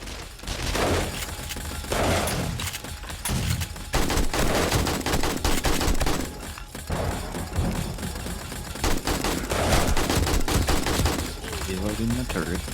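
Rapid turret gunfire rattling in the video game 7 Days to Die at a sunken workbench mega base, loud repeated bursts of shots with short gaps, with voices talking over the firing.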